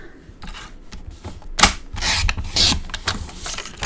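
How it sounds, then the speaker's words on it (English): Cardstock sliced clean in half corner to corner while making a Stampin' Up! card kit box album, heard as close scraping, rasping cuts with short bursts and pauses, no voices. "So I'm going to cut this clean in half, corner to corner"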